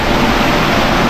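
Chingri waterfall in Bandarban roars as a loud, dense, unbroken wash of falling water, close and steady for a brief moment with no other sounds.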